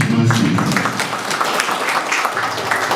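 Audience clapping at a community agricultural training event in Trou du Nord, Haiti, a dense sustained round of applause at steady loudness, a few voices mixed into the clapping.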